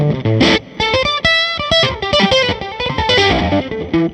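An electric guitar, a Gibson SG with P90 pickups, plays a quick melodic phrase through an octave fuzz pedal, giving bright, buzzy distorted notes with a doubled upper octave, loud and up close.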